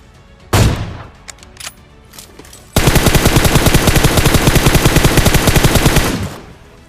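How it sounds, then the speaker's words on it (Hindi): Sustained automatic gunfire in PUBG Mobile, a dense rapid burst of shots lasting about three seconds after a few scattered louder single shots and impacts, loud and close with no talk. "अब एक बंदे की गोली की आवाज राइट से और एक की सामने से आई थी"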